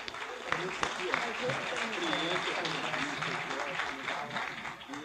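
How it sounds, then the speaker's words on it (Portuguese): Steady applause from an audience at a political gathering in Rio de Janeiro, a continuous wash of clapping heard at a distance with voices murmuring beneath it throughout. "eu queria uma salva de palmas em agradecimento a eles"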